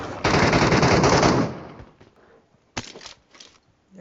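Automatic gunfire in the video game Metro Royale: one loud sustained burst of rapid shots, followed by a quieter tail and two shorter bursts, with no voices.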